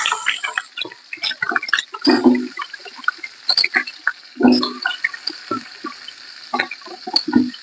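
Onions dropped into hot oil for a basmati biryani, spitting and crackling in loud irregular bursts with watery splashes between quieter stretches.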